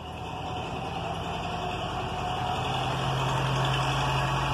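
A tractor or truck rumbles along a rural road in the countryside, a steady low engine drone that swells gradually as it draws nearer, heard alone without talk.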